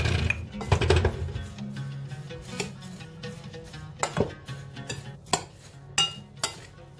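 Seasoning and salt are stirred in a bowl with a utensil, giving a series of sharp clinks and scraping taps at irregular intervals, close and fairly quiet.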